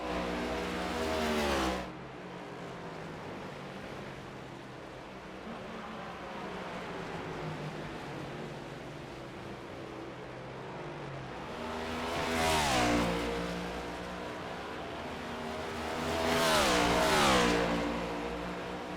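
A race car engine screaming on a hot lap, a steady drone with two louder revving passes swelling up near the end, heard without talk.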